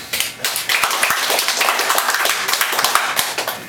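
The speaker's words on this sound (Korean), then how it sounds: "감사합니다. 박수." A room of people claps at a New Year gathering of a family clan association, a dense, steady patter of hands that lasts a few seconds without speech.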